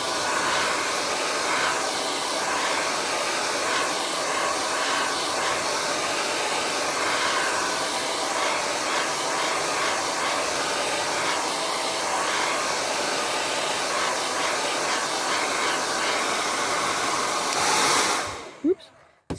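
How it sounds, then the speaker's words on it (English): A hair dryer blows steadily and loudly for most of the clip as it dries paint on a surface, then cuts off abruptly near the end. "my hairdryer here. So when I'm using it, I'm going to keep moving it over the surface."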